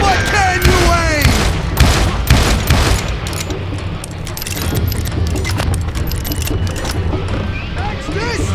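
Rapid bursts of gunfire echo through the Western shooter Call of Juarez: Gunslinger, with loud booming shots and metallic clatter, followed by quieter stretches under gruff in-game voices.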